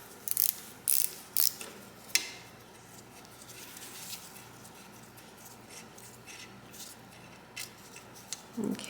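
Small metal clicks and ratcheting taps come from pivot screws being pulled from a 1910s Free No. 5 shuttle sewing machine, with a few sharp close knocks early on and quieter fiddling after.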